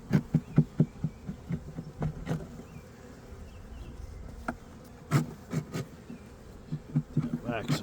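Honey bees buzz around an open hive as a pollen frame is handled, a steady close hum broken by scraping and tapping sounds from the frame.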